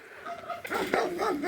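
A dog gives a few quick, whiny yips and barks, wavering in pitch, fairly close after a quieter start.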